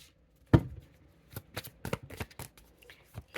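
Tarot cards shuffled by hand in a quick series of crisp riffles and soft slaps, one sharp knock at the start, then irregular bursts close by with no voice.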